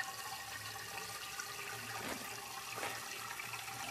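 A steady rush of sugar water being poured for mixed berry Italian ice, continuous and fairly soft, with a faint low hum beneath.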